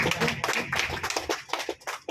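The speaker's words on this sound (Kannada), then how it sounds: "ದಯವಿಟ್ಟು ಜೋರಾಗಿ ಚಪ್ಪಾಳೆ ಹಾಕಬೇಕು" Audience applause welcoming a guest at a ceremony, a short burst of many hands clapping close by with a dense, uneven patter.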